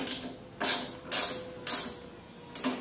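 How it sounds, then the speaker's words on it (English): Nut being tightened on a go-kart mirror mount with a wrench, giving four loud ratcheting bursts in a steady rhythm, close up, with quiet pauses between and no talking. "you can finish tightening the nut"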